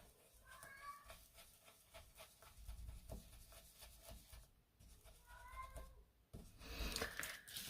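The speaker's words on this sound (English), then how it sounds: "you can hear my cat." A pet cat meows several times in a room where scrapbook stenciling is under way, its short calls coming at a moderate distance, once early and again near the end, amid light handling and rubbing noises.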